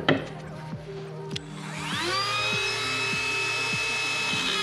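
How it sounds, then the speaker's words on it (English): Dremel rotary tool trimming a bolster on a DIY knife, a steady high whine that spins up after a few seconds and holds close and loud with a rising harmonic pitch. "but I'm gonna take my Dremel here"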